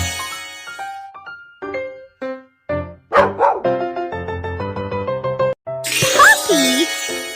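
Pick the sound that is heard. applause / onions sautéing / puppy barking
puppy barking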